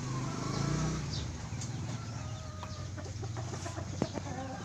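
Chickens cluck and murmur close by amid a busy barnyard hum, with scattered short calls and a few sharper squawks over steady background noise.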